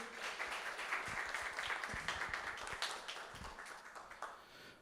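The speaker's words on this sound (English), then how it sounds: "So if everyone can put their hands together and a round of applause for the speakers." Applause from a tech finance event audience for the speakers, a steady wash of many hands clapping at moderate distance, tapering slightly toward the end.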